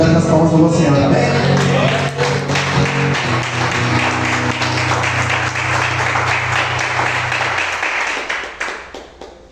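A church congregation applauds in a loud, dense wave of clapping during a worship service, with voices and low music underneath, gradually thinning and fading near the end.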